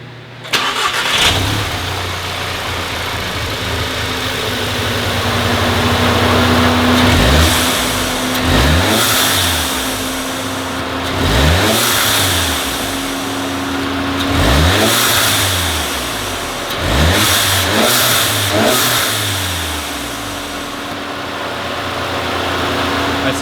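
A Mk7 Volkswagen GTI 2.0 engine fitted with an ECS Tuning diverter valve spacer revs repeatedly in short bursts, each rise falling back with a whooshing release, over a steady idle, loud and close.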